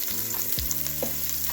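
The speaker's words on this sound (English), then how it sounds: "if you're frying green chilies like this" Green chilies fry in hot oil for Indian pongal, a close, steady crackling sizzle with a low tonal hum underneath.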